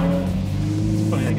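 Ferrari exhaust note, a low steady engine drone with strong rumbling tones held close and loud for a brief moment, shifting slightly near the end, with voices present.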